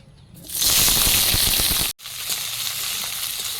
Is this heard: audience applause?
no